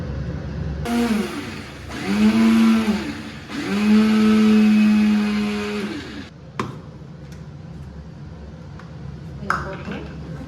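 A blender grinds sugar into powder for ice cream in two loud, steady bursts lasting a couple of seconds each, its motor pitch rising and falling. Quieter clinks and clatter follow.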